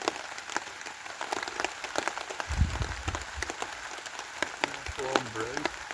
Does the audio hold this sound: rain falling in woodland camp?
yes